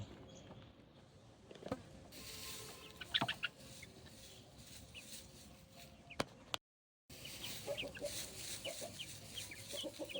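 Aseel chickens and roosters, including yellow birds and chicks under three months old, cluck sporadically in a yard amid steady background noise, with occasional sharp knocks and a brief dropout.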